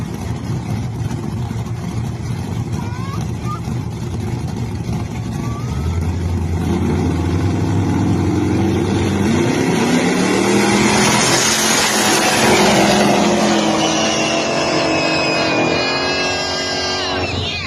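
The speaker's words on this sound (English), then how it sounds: "this is a full-on drag car build with serious power" A 1972 Chevrolet Nova drag car's engine rumbles and then revs up loudly, rising into a harsh, high-pitched roar that builds toward the end. No one talks over it.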